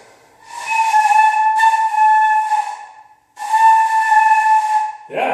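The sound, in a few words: beginner sustaining a breathy tone on a flute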